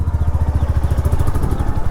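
Royal Enfield Meteor motorcycle engine thumping close by while riding on an Indian road, a loud, rapid, even pulse of exhaust beats with a low rumble underneath.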